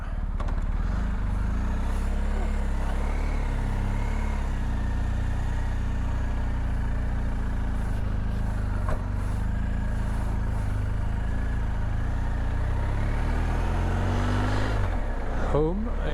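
A BMW R1250 GS Adventure motorcycle rides steadily through the village of Betws-y-Coed in North Wales, its engine a constant low drone with wind rush throughout, while a rider talks over it.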